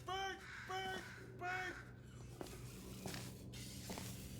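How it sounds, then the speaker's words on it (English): Harsh, repeated squawks from a bird in Portal 2, three loud cawing cries in quick succession, followed by scattered clicks and light tapping noises at the end. "Okay, that's probably the bird in it that laid the eggs."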